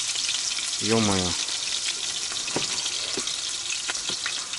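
Potatoes fry in a pan at a riverside camp, a loud steady sizzle and crackle close by, with a short spoken exclamation early on.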